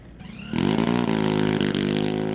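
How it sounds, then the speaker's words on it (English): The engine of a Shadow military reconnaissance drone, mounted on its pneumatic launcher, spins up from a low idle into a loud, steady, buzzing roar that holds close by with slight wavering in pitch. "The engine roars as it prepares to launch into the sky to perform a remote reconnaissance mission."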